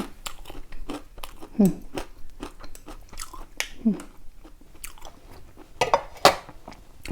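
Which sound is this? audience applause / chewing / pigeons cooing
chewing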